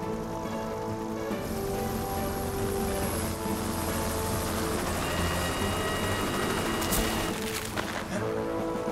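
A helicopter in the animated series Fireman Sam flies nearby, its rotor chop and engine whine forming a loud, steady drone throughout.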